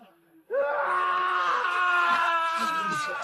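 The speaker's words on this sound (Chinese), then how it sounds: "这都嚎了大半个晚上了" A man wails in pain after being beaten with thirty strokes of a rod: a sudden loud, drawn-out moaning cry begins after a brief quiet moment and is held for several seconds with a wavering pitch.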